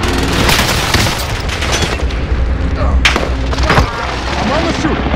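Airstrike blasts pound the Caldera map in Call of Duty: Warzone Pacific Resurgence, with loud booming impacts and crackling gunfire stacked close together, sharp bursts standing out near the middle of the stretch.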